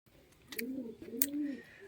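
Madras and Giribaz pigeons cooing, a couple of soft, low throaty coos close by in a quiet space, with a faint flutter or click between them.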